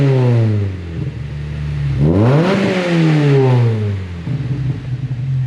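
A car fitted with a Fab9 Elite intake revs hard twice, the engine note climbing and falling in loud, close sweeps with an intake roar, settling back to a rough idle with no voices.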